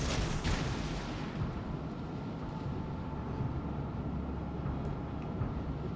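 Naval gunfire in the World of Warships: Legends game during a tier 7 battle, heavy booming blasts at the start fading into a long low rumble, with no voices.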